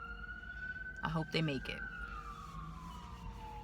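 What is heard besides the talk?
ambulance siren going by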